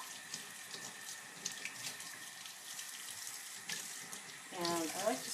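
A tap runs steadily into a sink while a makeup brush is rinsed under it, a soft continuous splashing stream that swells and shifts near the end as hands move through the water.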